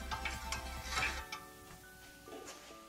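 A ratchet wrench clicks rapidly and steadily while loosening the transmission fill plug on a 2004 Subaru WRX five-speed manual. Several more faint metallic taps and scrapes follow as the plug comes free.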